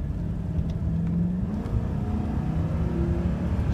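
A 2002 Chevy Silverado 1500HD 4x4 heavy-duty half-ton truck drives along, its engine a continuous low rumble heard from the cab with tones that shift as it pulls and changes gear.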